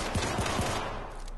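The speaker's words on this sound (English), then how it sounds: "as you can hear from the guns, this is just a pistol" Pistol gunfire in the video game Syndicate cracks out as three or four quick shots in rapid succession within a dense, loud in-game soundscape.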